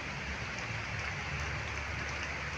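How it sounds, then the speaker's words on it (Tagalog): Heavy rain falls steadily beside a road, a dense, even hiss with a low rumble underneath that holds constant throughout, fairly faint and with no voices. "Medyo malakas pa yung ulan eh."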